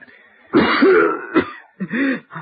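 A rough, throaty cough bursts out in a few harsh fits, close and loud, with brief pauses between them.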